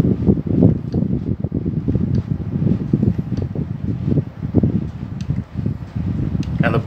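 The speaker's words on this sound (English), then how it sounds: "And the blower is moving at a high speed." An AC indoor unit's blower fan, just fitted with a replacement motor capacitor, runs at high speed with a steady, loud broadband whoosh that fills the whole stretch without pause.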